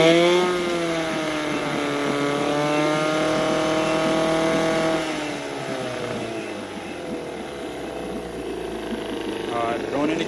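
A 1972 Johnson 6R-72D 6 hp outboard motor with a freshly rebuilt carburetor runs steadily on a test, its harmonic engine drone loud and continuous, easing slightly in pitch partway through.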